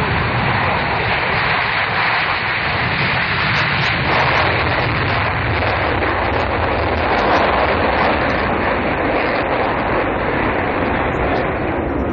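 Sukhoi jet aircraft of the Russian Knights aerobatic team roar at an air show, a loud, unbroken wash of jet noise that stays strong throughout.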